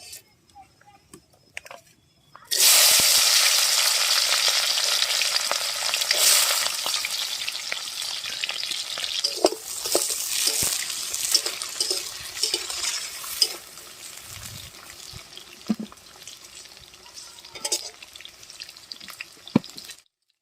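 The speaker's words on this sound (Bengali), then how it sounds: "এবার সবজিগুলো দিয়ে দেবো, তেলটা গরম হয়ে গেছে।" Vegetables hitting hot oil in a wok: after a few quiet clatters, a sudden loud hiss erupts and settles into a steady sizzle with scattered pops and utensil knocks, gradually calming, with no one talking.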